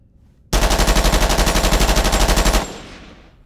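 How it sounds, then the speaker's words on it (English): Sustained burst of rapid automatic gunfire from a movie scene, loud and close, a steady stream of evenly spaced shots lasting about two seconds before cutting off into a fading echo, with no talking. "Gun."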